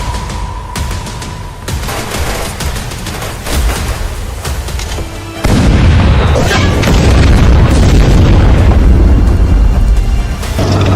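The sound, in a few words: cannon artillery firing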